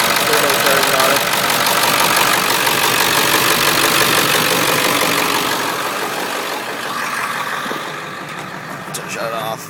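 A 1995 Ford F-250 4x4 diesel pickup with a turbocharger and a vegetable oil fuel system, idling loud and close with a rough, knocking clatter that fades slightly near the end as it is shut off.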